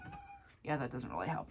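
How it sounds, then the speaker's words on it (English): A cat meows indoors in a dark room, a faint drawn-out cry followed by louder meowing that overlaps a voice talking close by. "you're gonna hear that meowing in the background."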